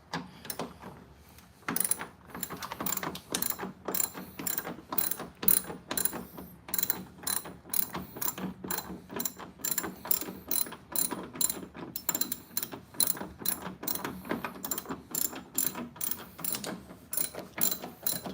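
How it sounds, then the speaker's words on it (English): Rapid ratchet clicking as a wrench loosens the headlight bolts on a 2013 Ford F150, close and crisp, in repeated bursts of quick clicks with short pauses between strokes. "start taking these bolts off right here for you guys"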